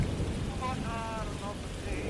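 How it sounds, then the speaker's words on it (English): Steady, dense rain pours down in a storm, a continuous wash of noise with faint tonal sounds drifting through the middle. "the rain washes over everything."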